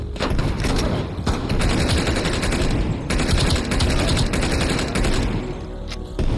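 Sustained automatic gunfire from Call of Duty: Cold War, a dense, loud, continuous rattle of shots with only brief gaps.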